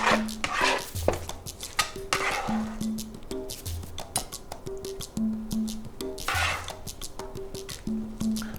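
Roasted broccoli being served onto a plate in a home kitchen, with soft clinks of utensil against dish, light scrapes and a few wet squishy sounds in an irregular rhythm, close and fairly quiet.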